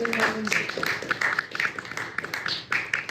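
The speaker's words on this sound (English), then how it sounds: "Let's give Heidi a round of applause" A concert audience applauds a returning singer of Italian art songs and arias, with scattered, uneven hand claps of moderate loudness that are somewhat distant and thin.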